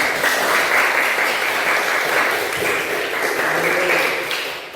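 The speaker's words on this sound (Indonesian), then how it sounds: "Tepuk tangan." A hall audience claps steadily and fairly loudly for several seconds at an Islamic teacher-training session, then the applause thins toward the end.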